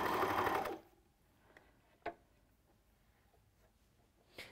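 An overlocker sewing machine runs in one short, loud, whirring burst and then stops, leaving a quiet room with a few faint clicks and handling taps.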